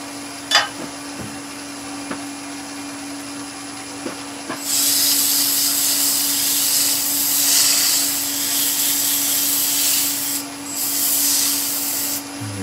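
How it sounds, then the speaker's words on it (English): Wood turned on a lathe being sanded, a steady broad hiss of abrasive against spinning wood that starts a few seconds in and continues to the end, close and fairly loud, with a low machine hum throughout and no talk. "We're going to sand that."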